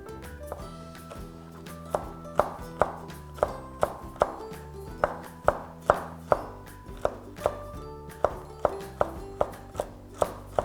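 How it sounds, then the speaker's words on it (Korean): A knife chops nuts such as almonds or peanuts on a board for dried persimmon rolls, a steady series of sharp, close thuds in an uneven rhythm with no one speaking. "그러면 한번 다져 보겠습니다"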